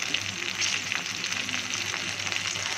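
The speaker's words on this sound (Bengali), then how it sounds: "এখন পেঁয়াজটা আমি ভালো করে ভেজে নিব" Onions fry in hot oil in a pan for a Bengali fish and tomato curry, giving a steady, soft, close sizzle with occasional stirring crackles.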